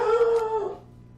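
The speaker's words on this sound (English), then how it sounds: "That's the dog." A dog's drawn-out howl rises and holds a steady wavering tone for well under a second, then fades, fairly close and alone in the room with no talk over it.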